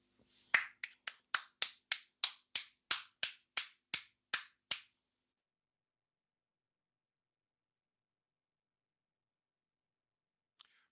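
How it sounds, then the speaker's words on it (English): Thirteen sharp, evenly spaced hand claps come in a steady rhythm over roughly four seconds, close and dry, followed by long silence with one faint tap near the end. "You deserve a huge round of applause."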